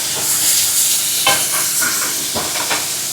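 Meat curry frying in a pan for a Sunday country-chicken fry, with a steady loud sizzle and hiss throughout and a few sharper bursts of scraping and stirring near the end.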